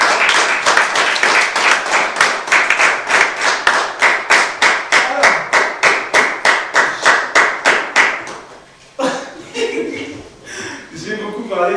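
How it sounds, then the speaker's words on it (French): Church congregation at a youth Protestant worship service clapping in a steady rhythmic beat, loud and close, for about eight seconds, then stopping as scattered murmurs and voices follow. "Est-ce qu'on peut acclamer cette parole?"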